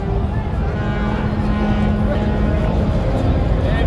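Passenger river launch Karnaphuli 9 pulling away from the dock, a steady low engine drone with water rush, a horn-like tone briefly audible, and people talking nearby.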